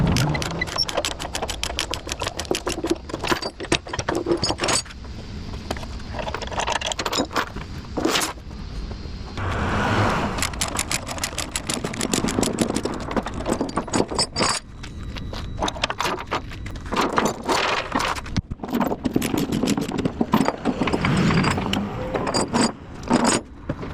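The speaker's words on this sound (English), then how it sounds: "He's got it cranking, but it's not starting." A parked ambulance's engine is cranked repeatedly without catching, bursts of grinding starter churn broken by short gaps and clicks, fairly close and loud, with no voices.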